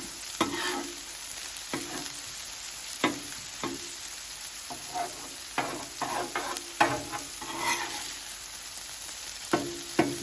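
Philly cheese steak meat frying on a Blackstone griddle, a steady close sizzle with sharp scraping taps of a spatula at irregular intervals, no voices.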